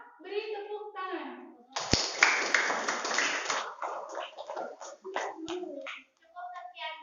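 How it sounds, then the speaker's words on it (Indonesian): A burst of group clapping from a room of people, starting after a short spoken line in Indonesian and continuing with voices and chatter mixed in. "Untuk kelompok 2 beri tepuk tangan."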